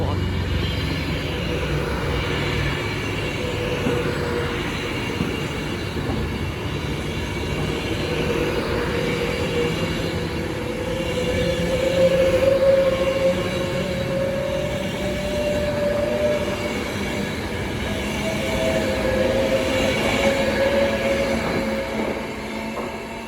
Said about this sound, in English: The next train to pass by is going to be an Avanti West Coast Class 390 Pendolino from London Euston to